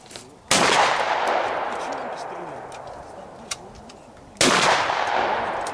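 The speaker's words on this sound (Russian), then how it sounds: "Мне кажется, он по два стреляет." Two loud rifle shots at a running boar target on a shooting range, each a sharp crack followed by a long, fading rolling echo, separated by a few seconds of quieter ambience.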